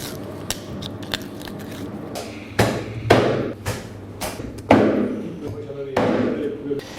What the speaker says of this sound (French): Ils sont en train de découper les magrets.